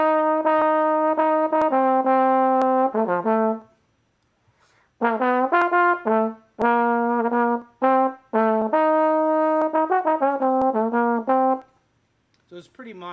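Trombone playing a lead jazz line flatly and evenly, without melodic shaping, in a masterclass setting; sustained separate phrases with short pauses between them, alone with no talk.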